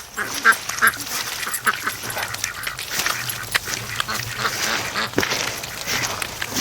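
Ducks quack repeatedly in and around swamp water among bulrushes, several birds calling in loose overlapping bursts over a steady outdoor background of splashing and rustle.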